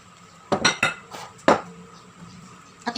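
A utensil clinks and taps against a bowl while egg whites are folded into steamed ube condensed milk cake batter, with a handful of sharp knocks in quick succession and a last pair near the end.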